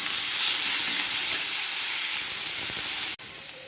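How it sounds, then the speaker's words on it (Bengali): Onion and tomato frying in a pan give a steady, close hiss and sizzle, with a brief dropout near the end before the sizzle resumes. "আমি পেঁয়াজ আর টমেটোটাকে দিলাম ছেড়ে এটা অল্প একটু ভাজা ভাজা করে"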